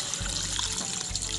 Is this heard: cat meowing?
no